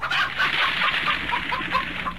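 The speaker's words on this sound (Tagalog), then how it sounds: "Naku, ang mga manok!" Several chickens cluck busily and continuously nearby, overlapping short clucks and squawks forming a steady restless chatter with no talking.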